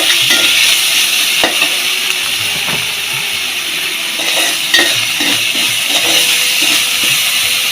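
Fish head, potatoes and long beans frying in a pan with ginger paste and salt, loud steady sizzling with repeated scraping and clinking of a spatula as the mix is stirred, no voices.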